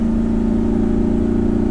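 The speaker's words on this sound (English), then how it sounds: "Can y'all hear that exhaust?" The gas engine of a 2011 Winnebago Vista 35F Class A motorhome drones steadily, its exhaust rumbling deep and even, close by with no talking.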